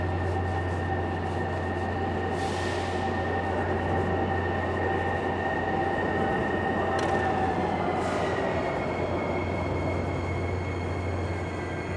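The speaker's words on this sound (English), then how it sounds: "Oh, train's coming." A Miami Metrorail train arrives at a station platform, with a steady low rumble and hum of rail traffic, a faint high squeal and brief hissing bursts over continuous loud drone.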